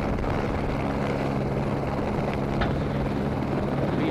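A helicopter flies over a snowy, icy rally stage at Rally Latvia 2013, its steady rotor and engine drone continuous and fairly loud throughout, with no talk.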